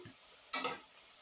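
Onions frying in a pan for Ethiopian red stew (key wot), a soft sizzle with a brief stir around the middle, nearby and fairly quiet.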